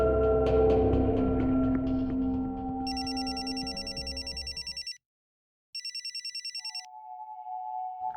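A telephone rings in two bursts of trilling electronic bells, separated by a short silence, after a sustained musical tone fades.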